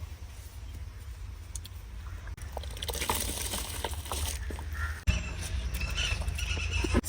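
Water at a rolling boil in a cooking pot before white rice goes in, a steady close bubbling and sputtering that swells midway and carries on for several seconds.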